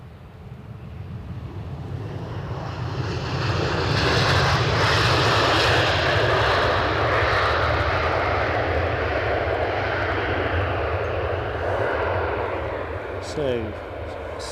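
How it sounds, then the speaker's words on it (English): A Ryanair jet airliner passes at Edinburgh Airport, a broad engine roar swelling and then holding steady at a distance, with wind buffeting the microphone. "We'll pick it up once this Ryanair"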